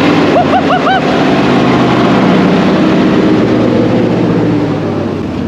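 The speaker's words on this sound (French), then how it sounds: "c'était mon rêve d'entendre un tank" A 1943 tank with twin V8 engines running, a loud steady low rumble close by that holds throughout with a few brief whistling tones early on.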